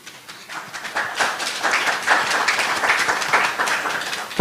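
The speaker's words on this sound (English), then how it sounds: "Your applause came a bit too early." An audience applauds at a professorial lecture: dense clapping from many hands that swells quickly and holds steady, moderately close.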